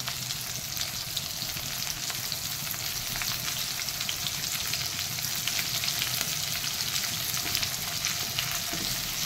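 Chopped onion and green chili frying in hot oil for a Bengali cauliflower and fish curry, a dense, even sizzle that stays steady and close throughout, with no voices over it.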